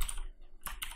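Keys clatter on a computer keyboard, a quick burst of close, crisp clicks, a brief pause, then another short flurry of typing.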